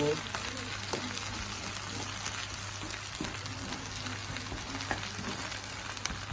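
Onions with turmeric fry in a pan for a potato fry, giving a soft, steady sizzle with faint crackles and occasional stirring. The sound is quiet and even throughout.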